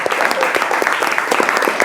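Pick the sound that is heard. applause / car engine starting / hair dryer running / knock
applause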